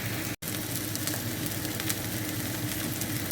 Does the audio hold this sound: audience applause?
no